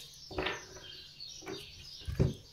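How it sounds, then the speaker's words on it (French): Birds squabble in the background with three brief scratchy chirps and flutters spaced about a second apart, moderately close, with no talking. "On a des oiseaux qui chamaillent derrière"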